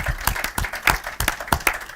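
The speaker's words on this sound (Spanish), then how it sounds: "Está aplaudiendo la niña" A young girl claps her hands at a novel presentation in Madrid, giving about a dozen distinct, fairly close claps in an irregular rhythm with no talk over them.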